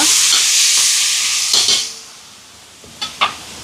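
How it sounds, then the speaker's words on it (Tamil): Tomatoes sauté in a large cooking pot for a charity meal for the poor in Sri Lanka, giving a loud steam-laden sizzle that fades, with a few sharp metal clanks of a ladle against the pot. "இப்போ தக்காளி பழம் வதங்கிட்டு பாருங்க"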